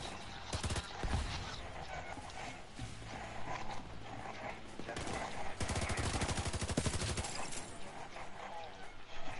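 Video game gunfire during a raid, bursts of rapid automatic shots mixed with single cracks and clanking mechanisms, loud and close, with voices speaking between the volleys.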